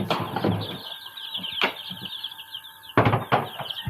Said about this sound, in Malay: Semua ayam ni adalah berumur uh, sekitar dalam 4 hari macam tu.